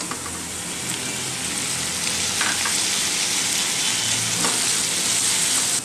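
Chopped medium-sized tomato sizzling in a hot pan, a steady crackling fry with soft stirring scrapes and small bubbling pops, close and continuous.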